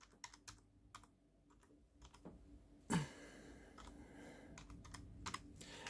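Typing on a computer keyboard, with a short run of light, close key taps, a brief pause and a louder thump, then more scattered keystrokes in a quiet room.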